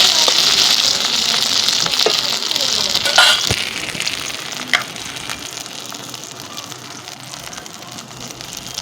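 Pounded taro stalk paste hitting hot oil in a pan, a strong continuous sizzle with scattered crackles and pops that gradually eases, close by and heard alone.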